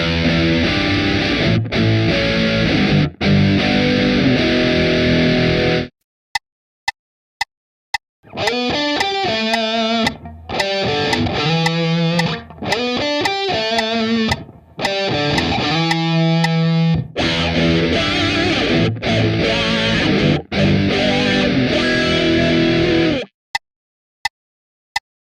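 A distorted electric guitar plays a heavy metal riff with blues elements built on the pentatonic scale. Chugging bursts are broken by sharp stops and short muted stabs, loud and close, with no talking.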